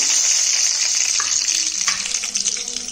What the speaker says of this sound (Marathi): आता मी तेल तापत ठेवलाय, भांडा ठेवून. आता त्याच्यात मोहरी टाकणार.